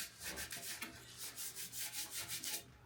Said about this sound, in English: hit this with a sander